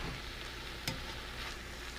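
Spinach sautés in a cast iron skillet with a soft, steady sizzle and one brief clink partway through, heard close and alone.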